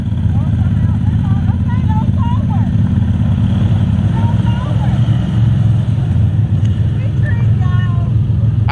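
A four-wheel-drive vehicle engine rumbles steadily in a backyard mud bog, a constant low drone beneath people talking and calling out over it.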